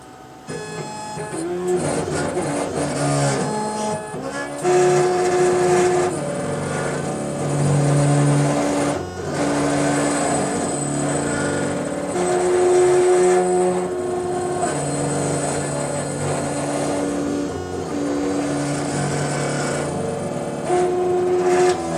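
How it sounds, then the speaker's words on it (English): A laser engraving machine runs a cutting job, giving a loud, steady mechanical whir. Motor tones shift and step in pitch as it moves. "So now the laser cutter is ready as well,"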